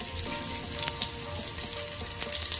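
Mustard seeds, cumin and chopped taro stems sizzle in hot oil as a tempering, a steady close crackle with sharp pops scattered throughout and no voices.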